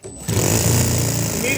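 A small RC model engine catches after a short quiet moment and then runs at a loud, steady, buzzing rattle close by.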